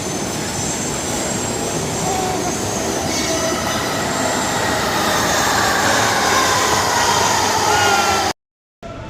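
A Bangalore metro train runs with a loud steady rumble and a high wheel squeal along the rails, continuous for several seconds before cutting off briefly.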